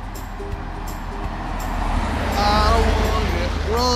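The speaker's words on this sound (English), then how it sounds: "I hear a car coming." A motor vehicle approaches and passes on a highway, its engine and tire noise swelling steadily over a constant traffic drone, with a faint tonal whine.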